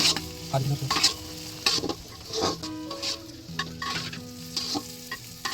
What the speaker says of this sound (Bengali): কাজু কিশমিশগুলো দিয়ে আরও খানিকটা ভেজে নিলাম